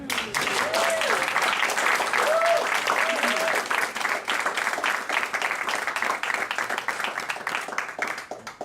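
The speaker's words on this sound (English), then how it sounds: "So, actually we should give Kim a round of applause." An audience at a 2011 Litcrawl poetry reading breaks into steady, dense applause that carries on for several seconds, then thins and fades toward the end, with a faint voice briefly audible over the clapping.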